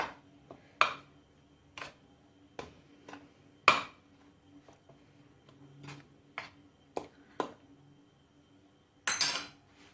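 Dry milk powder and other dry ingredients for chocolate lollipops stirred in a bowl, heard as sparse, quiet clicks and clinks of a spoon against the bowl, scattered irregularly with soft scraping between them.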